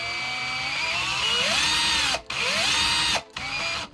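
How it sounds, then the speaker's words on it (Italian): A cordless screwdriver spins a stepper motor at close range, its high whining drill tone rising and falling as the speed changes, with two brief stops before it spins up again. "faccio girare tramite il mio avvitatore"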